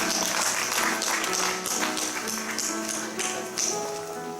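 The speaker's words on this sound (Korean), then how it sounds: "마음으로 뜨겁게 박수." A church congregation at a Korean thanksgiving worship service claps warmly and continuously, a dense even patter of many hands filling the room throughout.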